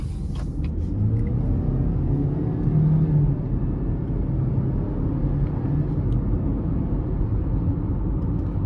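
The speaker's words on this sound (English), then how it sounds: "Give it some throttle here." A 2022 GMC Terrain AT4 engine pulls under throttle, a steady low rumble and whir of a car accelerating from inside the cabin, swelling slightly midway and holding level to the end.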